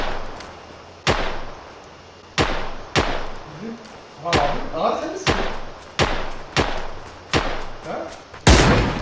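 Gunfire in the battle royale shooter PUBG: about a dozen sharp, booming shots land at irregular intervals, some close and loud and others duller, with muffled thuds and game noise between them and voices talking at times.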